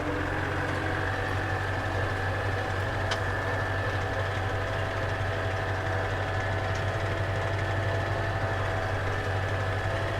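A tractor engine running steadily while spreading hay, a constant low droning rumble with a fixed hum, heard close and continuous without clear changes in pitch.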